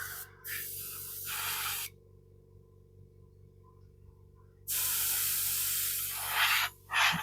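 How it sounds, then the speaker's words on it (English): An airbrush blows bursts of air over glued metal foil on a model, three hissing sprays of a few seconds each, broken by quiet pauses. "Speed things along with the airbrush."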